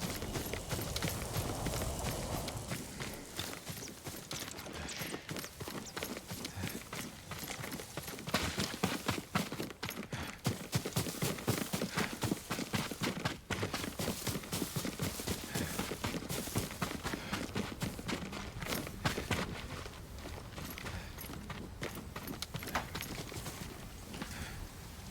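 Rapid clip-clop of a horse's hooves in the samurai game Ghost of Tsushima, a steady galloping rhythm of hoofbeats on the ground with a faint ambient bed, running continuously throughout.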